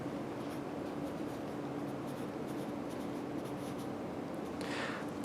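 Pen or pencil writing a maths answer by hand on paper, a steady soft scratching and rubbing that runs throughout at close range, with no talking over it.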